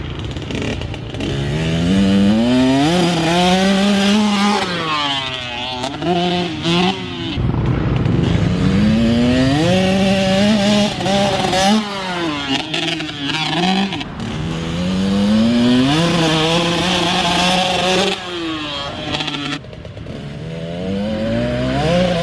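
A Kawasaki KX65 motocross bike engine on trails revs hard and close, repeatedly climbing in pitch through the gears, dropping back and winding up again in a buzzing two-stroke wail.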